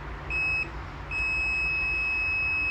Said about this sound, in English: You hear the beep as well.